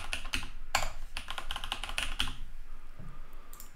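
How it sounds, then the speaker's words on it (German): A password goes in on a computer keyboard during a ProcessWire installation, a quick close-up run of crisp key taps in uneven bursts with short pauses and no voices. "Ich gebe hier ein Passwort ein."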